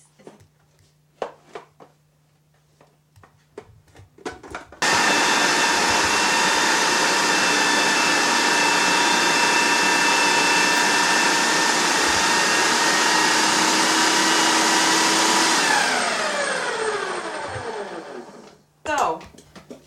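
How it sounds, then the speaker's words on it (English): Food processor chopping ingredients in a home kitchen: after a few knocks and clatter it starts with a loud, steady motor whine that runs about eleven seconds, then winds down and stops, with a final clunk. "we chop that up with the food processor"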